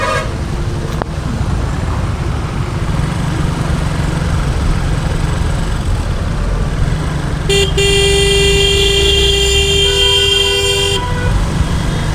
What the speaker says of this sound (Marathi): ट्रॅफिक लागलेली आहे सायदारा इथे